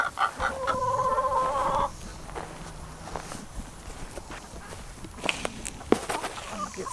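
Farm chickens cluck steadily and close in a coop for about two seconds, then quieter scratching, shuffling footsteps and scattered bumps take over.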